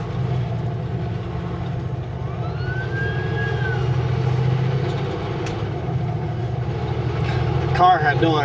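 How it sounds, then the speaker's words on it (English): An ambulance siren wails faintly in the distance, its rising and falling tone drifting over steady road rumble heard from inside a moving car. "The car had no idea the ambulance was coming."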